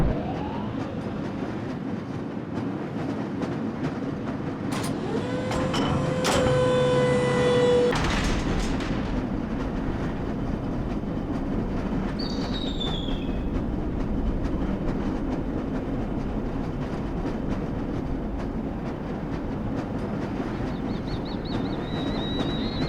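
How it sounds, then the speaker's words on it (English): A lever-controlled rail car in the Black Mesa game rumbles steadily along its track with a continuous loud roar, a brief squealing screech and whine early on, and a few faint electronic chirps later. "This lever-controlled train will transport you to a location where your training associates are waiting for you."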